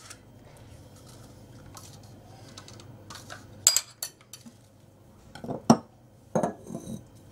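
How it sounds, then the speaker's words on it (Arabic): A utensil mixes all the ingredients for a glace (ice cream) in a bowl, stirred in one direction. Sparse, quiet clinks and scrapes sound close by, with a few sharper taps. "دابا غادي نخلط كاع العناصر كلها اللي صوت وغادي نخدمها كذلك في اتجاه واحد"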